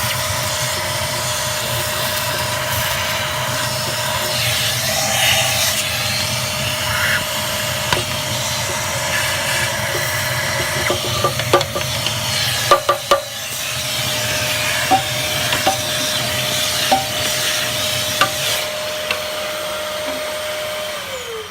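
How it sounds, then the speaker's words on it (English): A vacuum cleaner runs steadily while cleaning out the inside of a Harman pellet stove, its constant whine and roar broken by scattered clicks and knocks as the nozzle hits ash and metal, close by. "you'll want to vacuum out in there"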